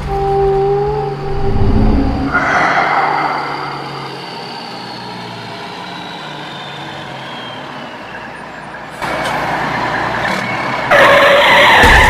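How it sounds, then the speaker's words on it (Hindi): Car driven fast in a cartoon: loud engine revving and tire skids come in bursts, with a long screeching squeal fading out, then renewed roaring engine noise toward the end. "पापा गाड़ी थोड़ी धीरे चलाओ"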